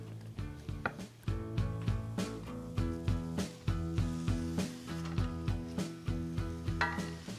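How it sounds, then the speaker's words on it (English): A knife cuts deli pastrami into slices on a board: a run of crisp, fairly regular chops close by, with no talking. "I've got some deli pastrami here that I'm gonna cut into slices"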